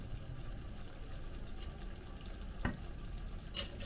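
Chili goes into spicy pork estofado simmering in a pan, a soft frying bubble with a light clink of a utensil and a brief splash as it is added, fairly quiet and with no talk.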